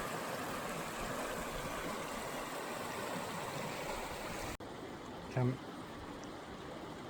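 River water flows steadily and close by, a broad continuous rush that runs unbroken from start to finish, with a brief louder splash or knock toward the end.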